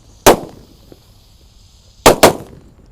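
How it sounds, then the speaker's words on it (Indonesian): Petir firecrackers, four lit at once, go off as sharp loud bangs outdoors: one crack first, then a quick double crack about two seconds later, each fading fast into quiet. "Selanjutnya kita nyalakan mercon petir. Ini ada 4 sekaligus ya."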